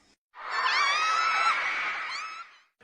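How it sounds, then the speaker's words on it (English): A crowd of girls screaming high-pitched at a superstar, a sustained shrill wall of overlapping excited voices lasting a couple of seconds, loud and unbroken. "Girls seem to be yelling out to a superstar or something."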